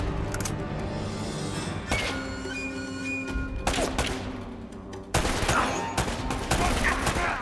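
Bursts of gunfire in Uncharted: Drake's Fortune, with shots cracking through a wall in repeated volleys and a steady background of game ambience, growing louder and denser toward the end.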